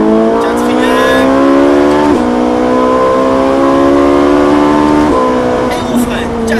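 Ferrari 458 Italia accelerating hard out of a circuit chicane, its engine note climbing through the gears with sharp shift drops, loud and close, with a voice talking over it.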